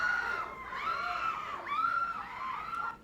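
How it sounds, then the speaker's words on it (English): Women screaming in a loud, sustained, wavering burst, with rising and falling high-pitched cries over a crowd-like background. "They just start screaming."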